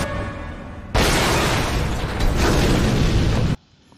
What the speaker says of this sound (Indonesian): mobil itu keburu meledak